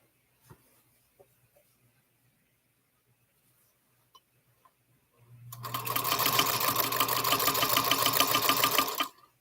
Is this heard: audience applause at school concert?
no